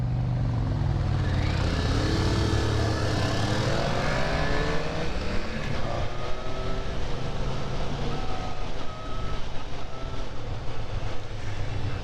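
A Suzuki GSX-S750 motorcycle being ridden, its engine note climbing steadily in pitch as it accelerates, then shifting and climbing again, with constant wind rush throughout and no talking.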